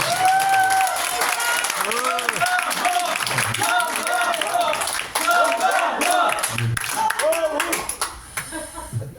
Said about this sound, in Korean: 큰 박수를 주십시오.